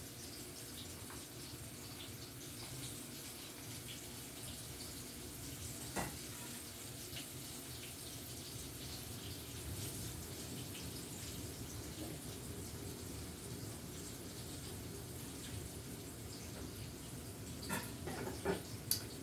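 Pork chops brown in a large pan as a steady, even sizzle, close and moderately quiet, lasting throughout with a few small pops and no talking.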